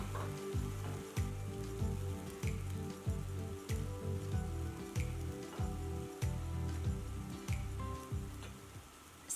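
Chopped vegetables and onions brown in a pan with a little water and no oil, crackling and sizzling steadily with a close, dense spatter and regular soft knocks throughout.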